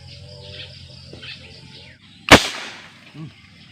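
A marble gun fires one sharp, loud crack outdoors while hunting, over a steady background of chirping crickets and insects.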